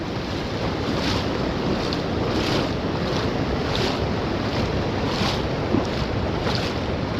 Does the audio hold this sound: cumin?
no